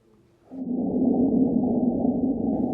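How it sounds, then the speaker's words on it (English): A Marsquake seismic recording: a deep, steady low rumble with a droning hum begins abruptly after a short quiet moment and continues unbroken. "That's the sound of a Marsquake."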